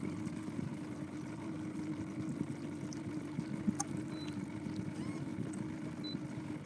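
A 1986 Ranger bass boat with a 1986 Yamaha 115 two-stroke outboard motor runs as a steady, low engine drone with water wash, fairly faint and even throughout.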